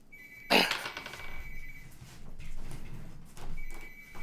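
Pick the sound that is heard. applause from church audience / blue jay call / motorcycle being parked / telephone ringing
telephone ringing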